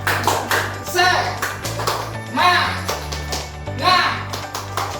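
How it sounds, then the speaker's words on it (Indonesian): Children in a classroom perform a rhythmic 'tepuk semangat' clapping chant, sharp patterned clap groups repeating in bursts while young voices chant along and a teacher speaks over a low hum. "kita tepuk semangat dulu ya sebelum mulai"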